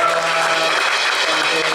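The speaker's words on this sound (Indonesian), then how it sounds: "Mari kita kasih tepuk tangan lagi ya sekali lagi ya." An audience at a church Christmas celebration claps in a dense, steady wash of applause, with a voice faintly audible over it.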